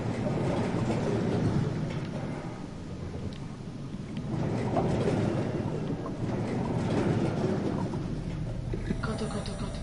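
A shuttle train in the sci-fi horror game Soma rumbles along steadily, a dense, heavy low roar with rattling and clanking swelling and easing over about ten seconds.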